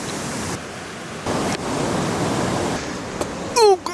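River water rushes steadily at a Grand Canyon river crossing, a broad continuous roar close by, with brief shifts in intensity and a short squeak near the end.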